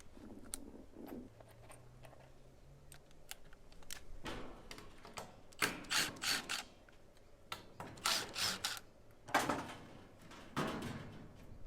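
Screws on a metal sump in a box gutter being adjusted, a few sharp ticks and scrapes at first, then several louder bursts of metallic grinding and rasping in close succession, near and without talk.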